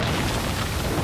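A cartoon explosion in an animated show, a dense continuous blast rumble that fills the full second at steady loudness with no voices over it.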